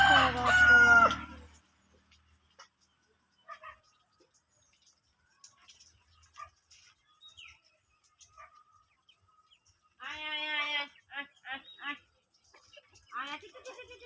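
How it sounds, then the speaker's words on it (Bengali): A rooster crows loudly and close by at the start, followed by scattered, quieter clucking from a flock of hens kept at a rural home, with people talking intermittently later on. "কটা মুরগি আছে?"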